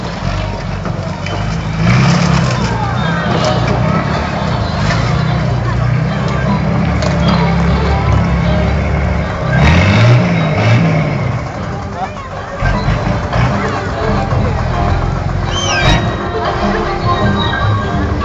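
The Samson monster truck, rated at 1450 horsepower, revs loudly at a show in Sibiu, Romania, its engine roaring and surging through repeated bursts while crowd noise and an announcer's voice mix in.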